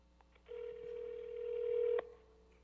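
A single steady telephone tone sounds for about one and a half seconds from a customer's phone calling a contact center, clear and close, then cuts off with a click.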